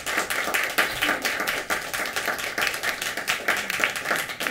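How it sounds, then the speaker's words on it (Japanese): An audience claps at a small live music venue in Minami-Horie, Osaka, welcoming a pianist to a grand piano; a scattered, moderately loud round of clapping that continues steadily throughout. "皆さんよかったら拍手で迎えてください。"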